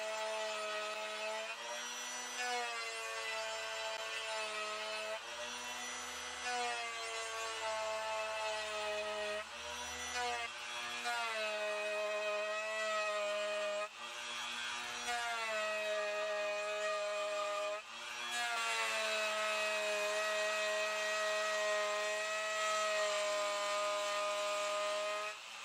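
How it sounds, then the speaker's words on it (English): A router cuts a recess into a guitar body with a loud, whining motor. The pitch dips and rises as the bit bites into the wood and eases off, with short pauses between passes. "I'll use my router to remove the excess material."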